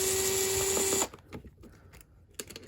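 A power drill whines loudly and steadily for about a second while taking the arms off an aluminum bell crank, then cuts out, leaving faint taps and small handling clicks.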